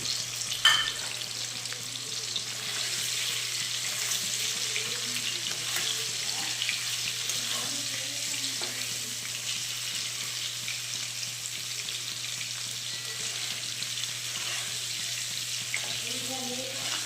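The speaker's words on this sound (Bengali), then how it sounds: "তাতে আমি এই পনিরগুলোকে একটু লম্বা লম্বা করে কেটে নিয়েছি, বড় বড় সাইজের। সেটা ভেজে নিই।" Long, large-cut pieces of paneer fry in oil for a Hyderabadi-style dish. They give a steady, close sizzle and crackle that runs unbroken throughout, with no talking.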